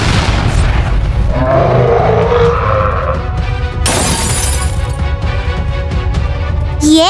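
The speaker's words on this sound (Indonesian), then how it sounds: "Rasakan tembakan basokaku ini." A cartoon bazooka fires with a loud boom, followed by a crashing explosion with shattering debris and a harsh burst of noise, all loud and close.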